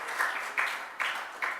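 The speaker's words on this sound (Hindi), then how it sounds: "जोरदार तालियों से उनका स्वागत करेंगे।" Applause from a gathered audience welcoming a donor at a religious assembly, a soft, distant wash of clapping that swells in a few brief waves.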